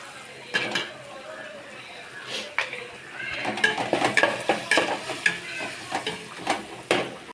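Ginger and garlic are sautéed in a pan for chicken biryani: a soft sizzle with clinking, scraping spatula strokes that grow busier toward the end, heard up close.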